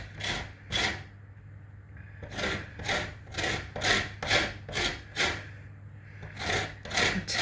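A lemon is rubbed over a grater in repeated rasping strokes, about a dozen even scrapes with brief pauses between them, close and fairly loud over a faint low hum.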